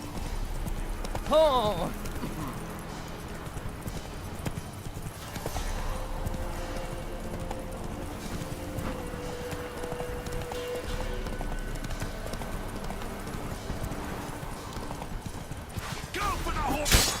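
Roach the horse gallops in The Witcher 3, a steady run of clip-clop hoofbeats carrying through the whole stretch amid game ambience, with a short exclamation from a voice near the start.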